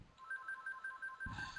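A phone ringing faintly during a computer webinar, a repeating electronic ringtone of quick pulsed beeps in a steady rhythm, quiet and distant, with a brief low thump near the end.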